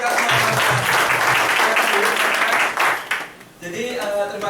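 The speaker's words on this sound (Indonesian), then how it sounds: "tepuk tangan untuk kita semua" Audience applause at a Prudential corporate gathering, a dense wash of clapping lasting about three seconds before thinning out as a voice begins speaking over the tail.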